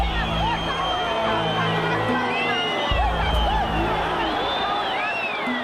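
A dense, jubilant crowd of protesters cheers, whoops and shouts continuously as they break into a building during the Romanian revolution, a loud, roaring mass of voices with a low rumble beneath.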